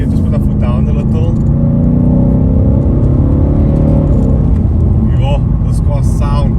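A Ford Mustang California Special V8 accelerates along a faster road stretch in Sport Plus mode, its engine note rising steadily in pitch as revs climb, then dropping at a shift, loud and continuous from inside the cabin.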